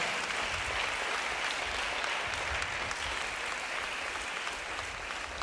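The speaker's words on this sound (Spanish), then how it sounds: "Dele aplauso a Jesús." A church congregation at an anniversary service applauds together, a steady wash of clapping that sounds somewhat distant and muffled, holding evenly throughout with no clear talk over it.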